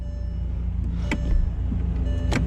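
A Bentley door's soft-close mechanism draws the door shut by itself, a close motorized whir with a couple of sharp clicks and clunks as the latch engages, no voices present.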